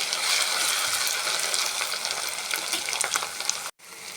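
Onions frying in tempering oil with ginger-garlic paste for a brinjal chicken curry, a steady close hiss and crackle of sizzling oil that cuts off briefly near the end.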